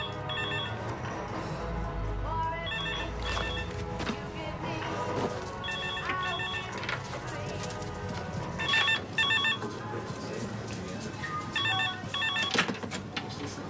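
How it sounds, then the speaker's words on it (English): A telephone rings indoors in repeated bursts of trilling bells, fairly quiet and mixed with room noise and light movement. "Phone!"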